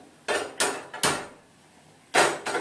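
A metal kadai is set down on a kitchen stove while cooking matar paneer, giving several sharp clanks and knocks in quick succession, a pause, then one more loud clank.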